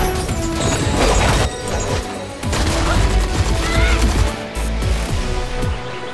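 Dual pistols fire in the Blade & Soul game, rapid loud volleys of shots mixed with heavy crashing impacts, in dense bursts broken by short pauses.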